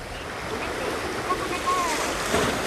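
Strong wind buffets a seaside fishing spot, a loud continuous broadband roar with gusty swells and sea wash beneath it.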